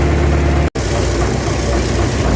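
An engine idles close by, loud and steady with a deep rumble, warming up after hot water was poured in but still running cold; the sound breaks off for an instant early on, then carries on unchanged, with no talk.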